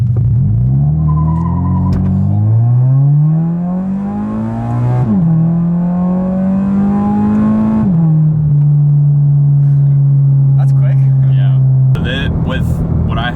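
A modified Subaru BRZ with a manual gearbox and traction control off revs hard and launches, its engine note climbing steeply through several rising sweeps with brief drops between them, loud and close throughout.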